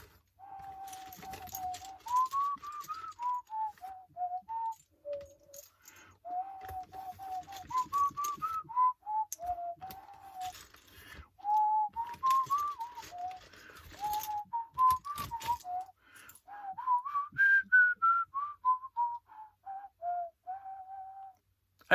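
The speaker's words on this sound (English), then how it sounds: "let's see if I can do it justice by whistling" A person whistles a wandering tune close up, the clear melody rising and dipping in long phrases with brief pauses, while faint clicks and rattles sound in the background.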